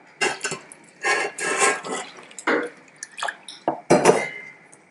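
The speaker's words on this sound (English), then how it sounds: "Just add a bit more water" Water splashes and trickles into a metal pot of salted water for making banku, in uneven bursts, with light clinks of cookware and drips in between, close by.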